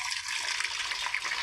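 Tap water runs and splashes steadily outdoors where cattle are being watered, a continuous broad hiss of flowing, spattering water with no pauses, fairly close and even in level.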